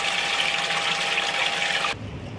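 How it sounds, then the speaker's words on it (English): Water rushes steadily out of a fish tank through an open ball valve and drains into a sump, a loud continuous gushing that stops abruptly near the end, leaving a softer hum. "And there's the water going out and into the sump."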